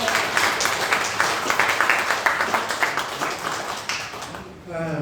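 A church congregation claps to welcome a family at an Easter service, steady broadband applause with visible individual claps throughout, fading near the end as a voice begins speaking.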